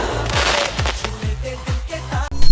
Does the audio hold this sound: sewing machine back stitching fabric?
no